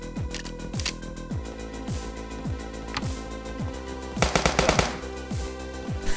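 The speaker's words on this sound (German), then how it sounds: "Er hat zuerst geschossen." Bursts of rapid machine gun fire rattle in the video game Police Stories, with a denser, louder volley near the end over a steady game soundscape and no voices.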